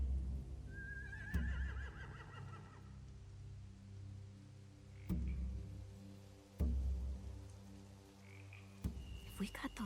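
Horses whinny in The Walking Dead: The Final Season video game, a rising call near the start over a low game ambience with a few dull thuds, then fainter calls later in the scene.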